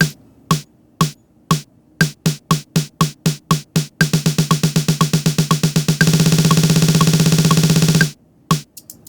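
A programmed snare drum build-up made in Ableton Live with Push: sharp, loud snare hits start in a spaced pulse, then speed up through quicker subdivisions into a dense roll that stops suddenly, followed by a few final hits.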